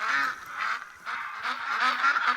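Geese honk repeatedly in theHunter: Call of the Wild, a steady overlapping chorus of loud, nasal calls that stays close and continuous, with no talking over it.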